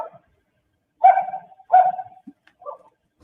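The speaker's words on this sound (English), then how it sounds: "That's a chihuahua." A chihuahua barks a few sharp, high yaps, close by, with short pauses between them.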